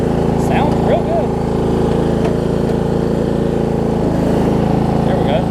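A cheap old Murray riding lawn mower engine runs at a steady idle, a continuous rough drone close by, with a few faint voice-like sounds over it.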